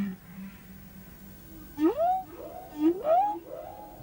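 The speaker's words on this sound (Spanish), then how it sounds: "La gente se emociona muchísimo al oír a las ballenas." Humpback whale song picked up by a hydrophone in Hawaiian waters: two rising, moaning upsweeps a second apart, clear over a low underwater hum.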